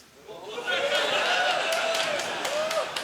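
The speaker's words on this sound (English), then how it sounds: "Just listen to the crowd" A crowd at a US Open pool championship match applauds and cheers steadily, a sustained wash of clapping under a commentator's voice.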